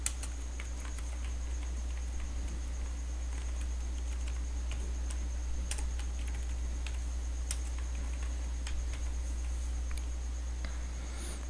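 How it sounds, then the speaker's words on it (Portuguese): Soft, steady clicking of a computer keyboard as a paragraph is typed into Word 2013, with light irregular keystrokes over a constant low electrical hum and no talking. "Eu vou digitar só mais um parágrafo aqui para esse texto"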